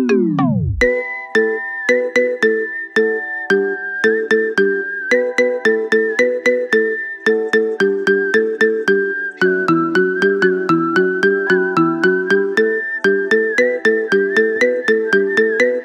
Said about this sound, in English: Make your phone ring with the best ringtone of the year.